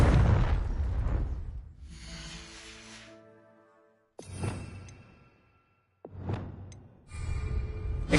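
Confringo blasting spell from Hogwarts Legacy firing repeatedly: several loud booming bursts with whooshing tails, separated by brief quiet gaps, each blast rumbling then fading.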